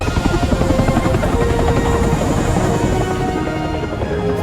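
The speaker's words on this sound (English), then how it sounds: "We do see a helicopter" A helicopter's rotor chops loudly and continuously close by, a dense pulsing thrum with engine whine that holds steady throughout.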